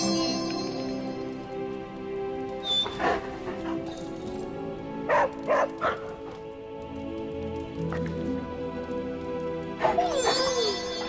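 A dog in Marvel's Midnight Suns gives a few short barks and yips at scattered moments, close and moderately loud over a quiet ambient game background, with a voice speaking between them.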